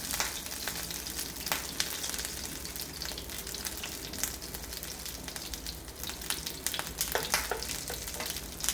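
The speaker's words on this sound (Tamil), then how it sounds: "பூண்டு வந்து ப்ரௌன் ஆகட்டும்." Garlic frying in a pan, a steady close crackling sizzle with scattered sharp pops, fairly quiet and continuous throughout, with no talking.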